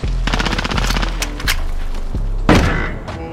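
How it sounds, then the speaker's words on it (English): Rapid bursts of gunfire sound in a first-person shooter video game, an MP7 in search and destroy mode, with repeated loud cracking shots and a heavier thump near the end. "I don't know if somebody just shot at me."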